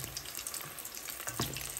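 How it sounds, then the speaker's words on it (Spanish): Steady crackling sizzle of ham and cheese croquettes frying in hot oil, continuous and close, with a few sharper pops and no voices. "Ya friendo las croqueticas."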